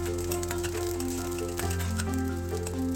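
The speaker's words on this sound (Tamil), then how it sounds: "நல்லா வறுத்து விட்டுக்கங்க." Garlic frying in a pan for vada pav chutney powder, a soft steady sizzle with faint crackles and a low background hum, heard alone without talk.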